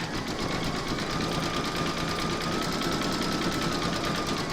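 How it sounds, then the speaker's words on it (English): An embroidery sewing machine runs steadily, stitching a satin stitch border on a koala cuddly toy held in a hoop, a loud continuous whirring hum with rapid needle clatter, no talking. "You're now going to pop your hoop into your machine and stitch round number 5"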